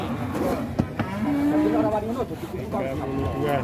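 Cattle lowing at a livestock sale, with a drawn-out moo rising through the middle and further bellows toward the end, mixed with crowd chatter and voices talking throughout.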